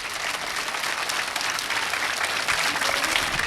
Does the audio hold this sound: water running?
no